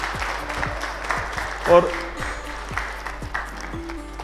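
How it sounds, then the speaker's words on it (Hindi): An audience at a business talk applauds the speaker, with steady clapping running throughout under a voice talking over it. "जोरदार तालियां सर के लिए"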